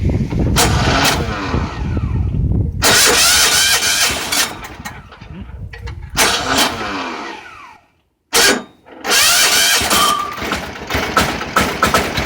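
A vehicle engine cold-starts up close in loud bursts, with sharp gunshot-like bangs and rough roaring revs. The bursts are broken by short pauses and a near-silent gap before the engine fires again.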